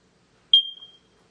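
One sharp, loud, high-pitched beep from a carbon monoxide/smoke detector after its test button is pressed. The tone rings briefly and fades within about half a second, with silence before and after.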